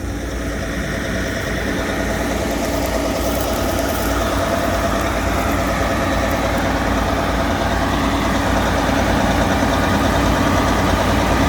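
A tracked tractor's engine idles continuously, a low rumbling drone that stays level throughout with no voices.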